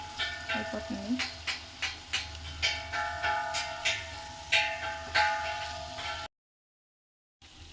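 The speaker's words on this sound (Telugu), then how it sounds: "ఇంకా ముక్కలు వేసేస్తున్నాను, చాప ముక్కలు" Fish pieces sizzle in hot spice masala in a pan, a steady crackling fry punctuated by repeated sharp taps and scrapes of a spoon stirring, before the sound cuts out briefly near the end.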